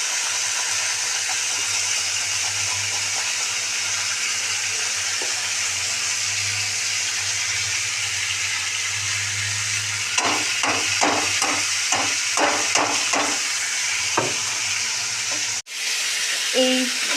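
Potatoes fry in a pan for a cauliflower and potato curry, a steady close sizzle running throughout, joined near the end by a quick run of sharp utensil taps against the pan.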